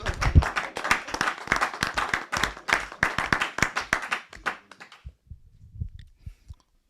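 A church congregation applauds, with a burst of dense, fast hand claps for about five seconds before tapering into a few scattered claps and quiet; no one speaks.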